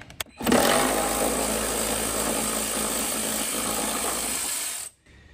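A power ratchet removing a 15mm nut from a Jeep TJ hood latch runs in one loud, continuous buzzing whir for several seconds, starting after a couple of clicks and cutting off sharply.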